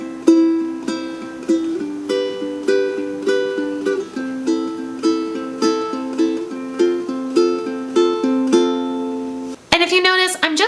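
A guitar is fingerpicked lightly in a thumb, pointer, ring pattern for a song, with soft, even notes rolling in a steady repeating arpeggio, closing with a brighter burst of strings.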